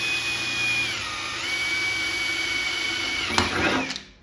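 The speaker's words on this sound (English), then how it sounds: "Let the drill bit do the work." A power drill whines steadily at high speed, pitch dipping briefly as it bites into the metal of a 1959 Impala convertible's cruiser skirt, then winding down at the end.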